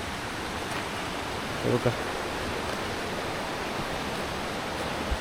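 A small river flows beneath a little bridge near a temple in Konkan, producing a steady broadband rush of water throughout, with a brief voice in the middle.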